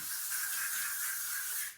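Sunscreen spray hissing steadily from an aerosol can in one continuous burst of just under two seconds, close and fairly loud, with no talking.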